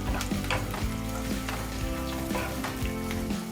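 Chopped onions and green chillies with a little mint and coriander fry in hot oil, a steady, close crackling sizzle with a few soft stirring knocks, no voices.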